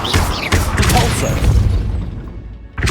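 Depulso spell cast in the game Hogwarts Legacy, a sharp magical blast that opens with a booming burst and then a sustained rushing wash, fading out before a fresh loud impact at the end.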